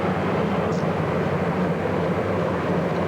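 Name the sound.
Marine One presidential helicopter passing overhead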